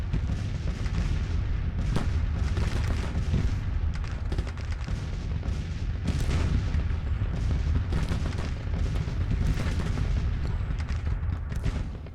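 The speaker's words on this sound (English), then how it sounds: "Let's get all these guns firing on you." Massed cannon and musket fire from a Civil War battle in the game Grand Tactician rolls on without pause, dense overlapping booms and crackling volleys forming a loud, continuous din.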